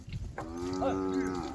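A herd of cows and buffaloes moving with Maldhari herders lets out a long, loud bovine moo close by, rising and holding for about a second before fading.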